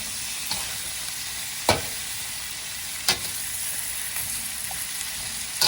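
Asian-style cabbage stir fry sizzles steadily in a pan, with a few sharp spatula scrapes and clacks against the metal at irregular intervals.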